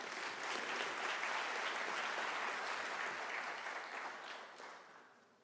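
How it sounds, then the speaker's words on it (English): Applause fills the hall at a University of South Africa autumn graduation ceremony, a steady dense roar of many hands that holds for several seconds and then tapers off. "Once more, a round of applause when we welcome ourselves to this session"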